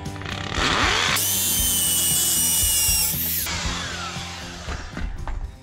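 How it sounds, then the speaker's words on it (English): Hammer drill with a concrete bit boring an anchor hole into concrete for a steel porch railing, a loud close grinding roar that starts up, holds steady for about two seconds, then winds down into scattered knocks. "I'm using my hammer drill here and a concrete bit to the size specified for the concrete anchors."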